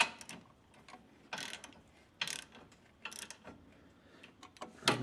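Ratchet snugging 17 mm front brake bolts on a 1996 Toyota Corolla, several short bursts of rapid clicking separated by brief pauses, close and fairly quiet with no speech.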